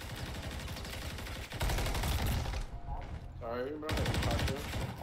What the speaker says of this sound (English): I just shot you.